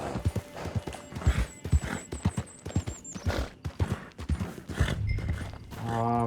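A horse in the video game Red Dead Redemption 2 Online gallops with quick, loud clip-clop hoofbeats nearby, then slows and gives a whinny at the end.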